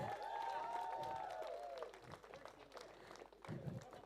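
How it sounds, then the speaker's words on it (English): Wedding reception guests give soft, scattered clapping for the groomsmen. It is fairly faint and mixed with voices and tonal sound, and the claps thin out into a few patters by the end. "Clap for these men, yeah?"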